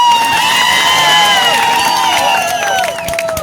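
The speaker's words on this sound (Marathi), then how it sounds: "एकदा तुमच्यासाठी सगळ्यांनी जोरात टाळ्या वाजवा" A large crowd at an outdoor Adivasi political rally cheers, claps and whoops loudly and continuously, with shrill high voices rising above the steady roar.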